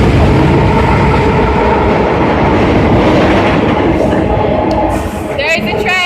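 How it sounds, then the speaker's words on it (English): A train thunders along the railway tracks directly overhead, heard from right underneath. The rumble and rhythmic clatter are loud and close, and a voice breaks in briefly near the end. "another train's coming. And I'm seriously right under the train tracks."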